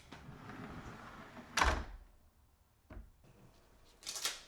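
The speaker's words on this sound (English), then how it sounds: "Soft close pocket doors throughout the house." A soft-close sliding pocket door in a Japanese house glides and settles with a soft thud, followed by a quieter bump and a faint swish as it moves again.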